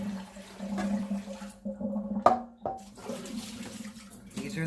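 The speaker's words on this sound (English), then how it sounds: "I just want to dump this water out" Water poured out of a large cooking pot into a sink in a home kitchen, splashing and gurgling in uneven surges with brief pauses and a sharp clatter partway through, fairly close and moderately loud.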